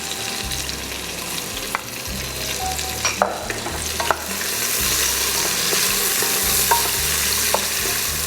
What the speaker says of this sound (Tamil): நம்ம வெட்டி வச்சுருக்கிற ஆனியனை நான் அதில் போடுறேன். ஆனியனோடைய பச்சை மிளகா,